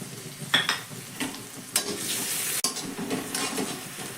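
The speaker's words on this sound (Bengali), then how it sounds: "পেঁয়াজ আর লঙ্কাটাকে প্রথমে হালকা একটু ভেজে নেব।" Chopped onion and three green chillies frying in hot oil, a close continuous sizzle with a few sharp scrapes and clinks of a spatula against the pan, no voices.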